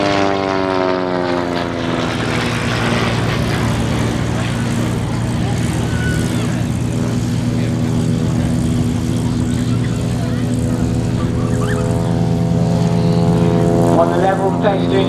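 A Wildcat propeller warplane flies aerobatics at the East Kirkby air show, its engine droning loud and steady throughout with a rising, shifting pitch as it maneuvers, while a commentator talks over it.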